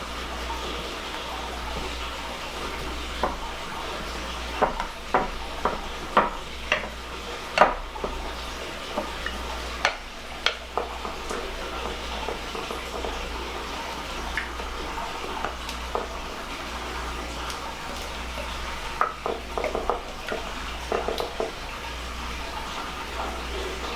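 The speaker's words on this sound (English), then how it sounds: "take the back of your spoon and just push it up against the wall of your bowl" A spoon pressed against a bowl wall stirs and smooths a sugar mixture for apple hand pies, giving scattered close scraping clicks and taps in irregular bursts over a quiet low hum.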